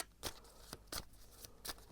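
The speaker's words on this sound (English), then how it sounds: "I'm going to shuffle some more cards" Tarot cards are shuffled by hand in soft, quick riffles, four or five short papery bursts spaced across a quiet moment, faint and close with no voice.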